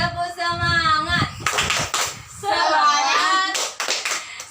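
Children in a classroom perform the rhythmic tepuk semangat clapping chant, bursts of sharp group claps alternating with loud shouted chanting voices, close and energetic.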